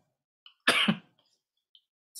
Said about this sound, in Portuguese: tosse